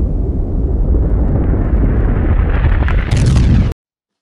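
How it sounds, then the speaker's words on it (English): A powerful animated explosion, a loud sustained deep rumbling boom lasting several seconds that swells slightly near the end and then cuts off abruptly into silence. "On the same day, a powerful explosion occurred."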